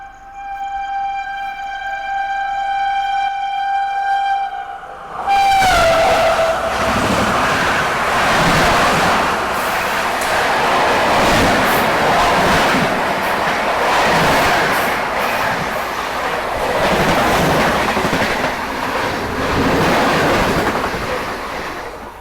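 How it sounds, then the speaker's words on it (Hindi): A Telangana Express train overtaking on the adjacent track, a loud sustained rumble and clatter of wheels passing close by that starts abruptly after a horn-like tone and continues to the end. "ये तेलंगाना एक्सप्रेस ओवरटेक कर रही है यहाँ पे हमें।"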